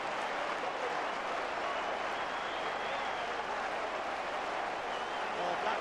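A football crowd applauds a Leeds United goal against Blackburn Rovers in the 1997/98 season, a broad continuous roar of clapping and stadium noise with a commentator's voice running over it.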